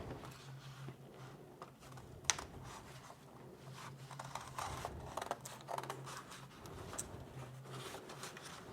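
Scissors snip through stiff pattern paper to shape the front neckline of a waterfall hijab cape, a faint series of irregular crisp cuts over a low steady hum.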